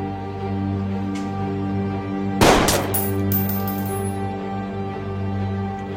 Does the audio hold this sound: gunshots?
yes